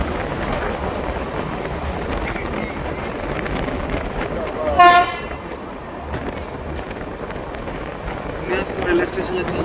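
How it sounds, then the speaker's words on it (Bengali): Tebhaga Express, an LHB-coached train on the Balurghat–Kolkata run, sounds a short, loud horn blast as it enters Buniadpur station, set against steady rumbling wind and station noise with voices in the background. "বুনিয়াদপুর রেল স্টেশনে এই মুহূর্তে ট্রেন প্রবেশ করছে"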